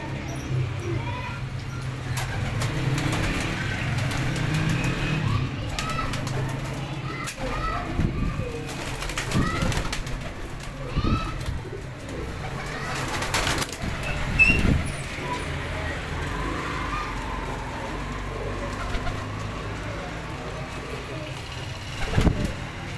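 Pigeons coo softly in an outdoor setting, with occasional wing flaps and a few sharp knocks over a low hum of distant traffic.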